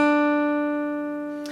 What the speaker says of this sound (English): he's finger picking these melody notes